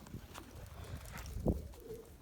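Low, soft pigeon coos rise briefly over a muffled background, with a slightly louder coo near the middle.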